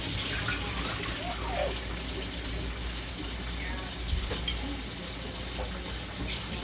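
Tap water runs steadily onto oxtail and stewing beef being washed in a kitchen sink for a Haitian stew, a continuous close splashing stream with a brief louder spatter near the end.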